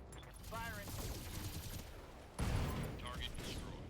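Rapid machine gun bursts crackle in a video game battle with the Commander's Edition mod, a dense fusillade that jumps louder partway through, while a voice talks over the firing.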